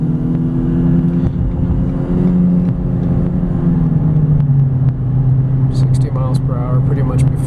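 A 2015 Ford Fusion Energi hybrid accelerating, heard from inside the cabin as a steady low engine drone that rises slightly in pitch, constant and moderately loud throughout.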